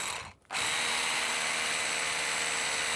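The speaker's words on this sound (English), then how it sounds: "Instead, I'm using my power drill for a more targeted approach." A power drill bores into a wall, a loud steady whine that starts after a brief pause and runs continuously at close range with no talking.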